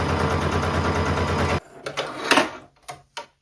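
A sewing machine runs a straight stitch down the side seam of a top made from a thrifted skirt, a steady loud hum for about a second and a half, then stops, followed by a few short handling clatters.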